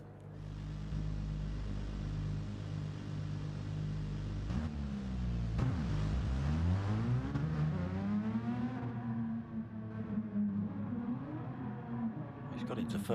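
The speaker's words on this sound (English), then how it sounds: "That's still 2nd gear, Pilgrim." A Renault Megane race car engine in a racing video game at Laguna Seca, droning loud and steady, then dipping and climbing through a sweeping rev change, with commentators talking over it throughout.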